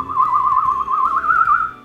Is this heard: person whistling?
yes